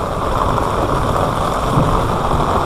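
Steady rain pours outdoors during wet sanding of primer on a car, a dense, constant hiss and patter with no talk and nothing else standing out.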